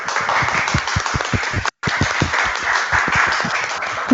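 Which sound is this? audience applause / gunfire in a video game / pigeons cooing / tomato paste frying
audience applause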